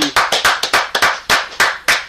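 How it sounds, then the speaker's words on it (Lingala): Close, loud hand claps, about a dozen in a quick uneven rhythm at a tribute event, with no talking. "je suis le premier de t'applaudir"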